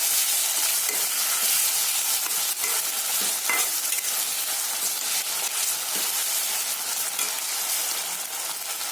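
Garlic paste and ginger paste sizzle in hot oil in a pan while being stirred for a rohu fish curry, a steady close frying hiss broken by repeated scraping stirs, with no talk.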